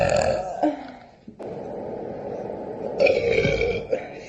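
A person lets out long, drawn-out burps: one rumbling belch breaks off about a third of the way in, then a second, longer one follows, loud and close with no other sounds.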